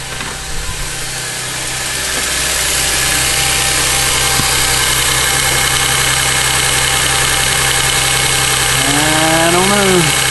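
2000 Toyota Sienna engine idling after a fuel filter replacement, a continuous loud close rumble that settles into a steady hum.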